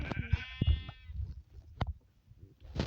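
Minecraft sheep bleat in a wavering game sound, then scattered clicks and thumps from play follow at a moderate level.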